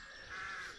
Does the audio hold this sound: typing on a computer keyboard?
no